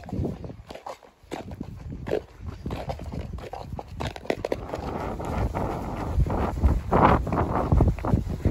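Wind buffeting the microphone while riding a horse around a farm yard, a loud, rough rushing that builds steadily, mixed with the thud of hooves.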